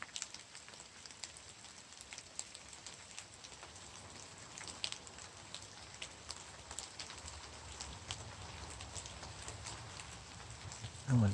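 Rain falling outdoors around an abandoned ghost town, a soft continuous patter of drops with scattered sharper ticks, fairly quiet and steady, no voices.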